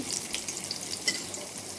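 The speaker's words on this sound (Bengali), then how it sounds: "পনিরগুলো এই বেসন দিয়ে পকোড়া টাইপের করে একটু তেলের উপরে ভাজছি" Paneer pieces coated in gram flour batter fry as pakoras in hot oil in a kadai, giving a soft, continuous sizzle and crackle at low volume, with small pops.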